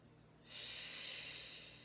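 A single forceful exhale through the nose or mouth during a Pilates core exercise, a breathy hiss that starts abruptly and holds steady for over a second against a quiet room hum.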